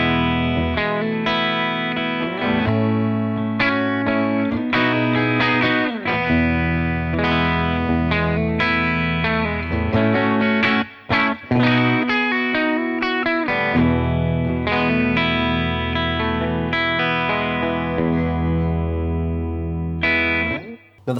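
An electric guitar on its bridge pickup, with a clean boost, plays bright, lightly driven chords and riffs, continuous and loud, with a crisp, slightly crunchy tone throughout.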